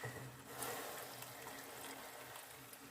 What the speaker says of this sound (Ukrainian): Заливаємо водою не посередині казанка, а по периметру, отак.